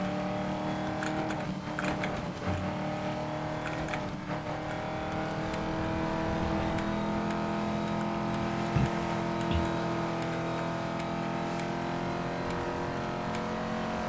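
Engine of a racing car in Need for Speed: Most Wanted (2012) roars steadily on a highway during a police chase, a sustained loud drone with shifting pitch and no talk.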